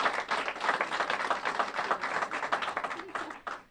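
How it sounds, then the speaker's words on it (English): A round of applause for a doctor at a Saginaw County community program event, dense, steady clapping from a sizeable crowd lasting several seconds before thinning at the end. "So she deserves a round of applause."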